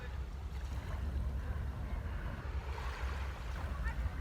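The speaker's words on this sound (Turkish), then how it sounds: "suyun bu sesi çok huzur veriyor bu arada" Water lapping and washing steadily near a boat or shore on a calm day, a soft continuous wash with light wind noise and no talking.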